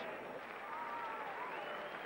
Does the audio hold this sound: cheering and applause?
yes